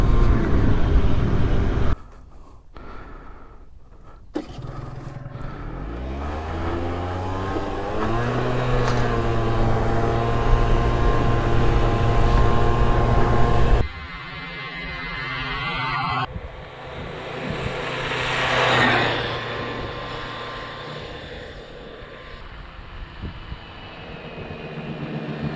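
A Peugeot Trekker 50 moped is ridden off-road, its small engine revving loudly with rising and falling pitch sweeps, steady buzzing stretches and wind rush, changing as the rider shifts and accelerates, with no speech.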